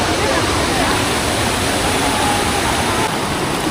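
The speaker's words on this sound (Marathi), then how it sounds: "वॉटरफॉल इथे पण आहे काय इथे बघा" Bhavali waterfall at Igatpuri during monsoon: a loud, steady rush of flowing water, close by and unbroken.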